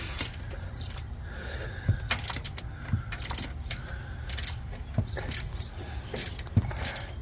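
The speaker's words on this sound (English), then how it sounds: "you got this ratcheting after you get it loose, so you can get the rest of the way" A ratchet wrench loosens the battery ground cable on a Ford truck, giving repeated metallic clicking ratchet strokes in irregular bursts, close and moderately loud with mechanical rattles between them.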